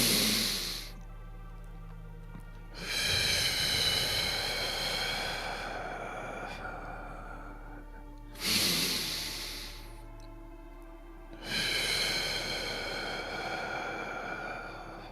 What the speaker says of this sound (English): let's take 3 nice deep breaths in through our nose. Hold for a moment. Exhale through our mouth.